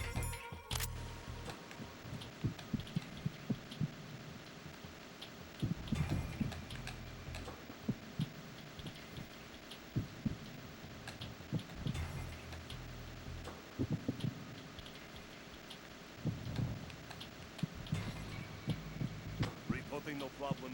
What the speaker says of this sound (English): I feel like that heartbeat sounds a little bit irregular